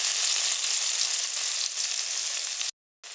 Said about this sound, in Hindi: तेल गरम हो गया। अभी पहले प्याज को डालेंगे।